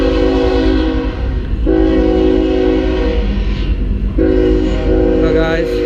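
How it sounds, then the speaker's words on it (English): A train passes close by with a loud, steady rumble and long sustained horn blasts, the horn sounding in two stretches across the clip while the rolling noise continues underneath. "So every 5 minutes there's a train coming through this place."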